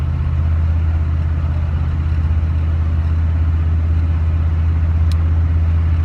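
A diesel pickup with a 6.5 engine and about 200,000 miles cruises along a road, a steady low drone from inside the cab with faint road noise and no speech.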